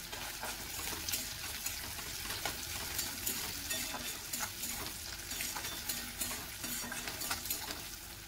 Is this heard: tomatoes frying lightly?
yes